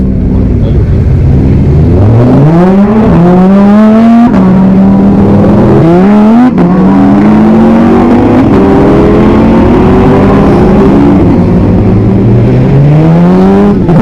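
Group of Lamborghini cars pulling away one after another, engines loud and close with repeated revving and rising acceleration sweeps over a constant roar, with no talk.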